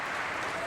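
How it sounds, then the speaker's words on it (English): Crowd cheering and applauding at BlizzCon on the main stage, during the first reveal of the Heroes of the Storm cinematic: a dense, steady wash of clapping and cheers for a brief moment. "Dude, the crowd went wild"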